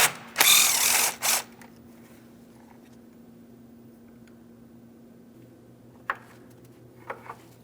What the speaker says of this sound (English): We're using an 8mm to start loosening the mounting hardware.